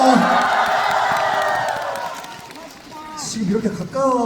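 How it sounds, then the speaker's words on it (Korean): A fan-meeting audience claps and cheers in a large hall, broad crowd noise that swells then fades, with a voice speaking over the later part. "박수 한번 주세요."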